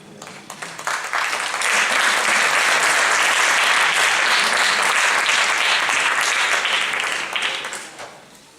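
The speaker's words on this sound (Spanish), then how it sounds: "Los aplausos son para Cristo" A large church audience bursts into sustained, loud applause that swells quickly, holds steady for several seconds, then fades away.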